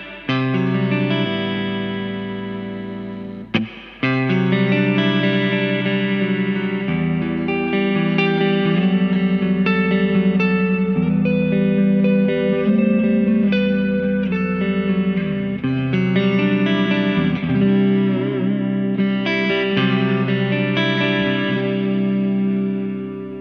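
Electric guitar played through a Joyo banTamP XL Meteor II amp with reverb added, sustained chords and notes ringing continuously with a wash of reverb tail, a brief break near the start, no talking.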